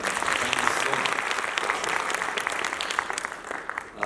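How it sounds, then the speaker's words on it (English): A conference audience at an education summit applauds in a dense, continuous burst of many hands clapping that stays strong, then thins slightly toward the end, with no talk over it. "You should either clap or not clap."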